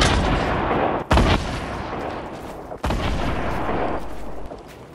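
Sustained gunfire and heavy explosive booms from a rocket in a battle-royale shooter video game, loud and continuous with two brief gaps, with no talking.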